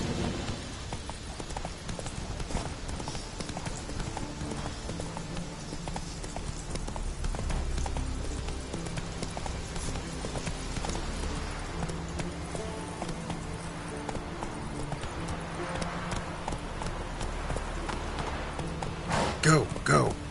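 Roach, a horse in a video game, gallops steadily with rapid clip-clop hoofbeats throughout, while game music and a voice talk over the hooves.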